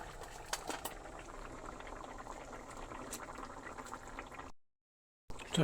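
Fish curry gravy bubbling at a steady boil in a pot, a continuous close simmering burble with a few louder pops, cutting to silence briefly near the end.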